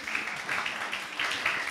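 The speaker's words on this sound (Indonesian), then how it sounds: "boleh tepuk tangan lagi" An audience at a youth church service claps in brief, steady applause, a soft wash of hand claps that stays fairly quiet and ends quickly.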